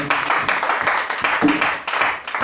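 A church congregation applauds during a service with a steady, dense clapping rhythm from many hands in a reverberant room, continuing without a break.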